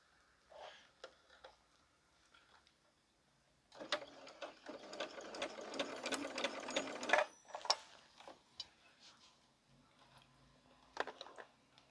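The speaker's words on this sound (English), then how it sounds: "I'm doing a 1/4 inch stitch." A sewing machine runs a quarter-inch stitch along the hem of a sequin fabric dress, first in brief bursts and then in a steady whirring run of several seconds, close and quiet, with ticks of handling around it.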